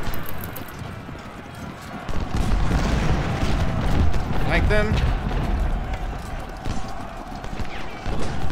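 Horses gallop with a dense, continuous clatter of hooves and let out a brief whinny amid battle noise in the Civil War strategy game Ultimate General: Civil War, loud and sustained throughout.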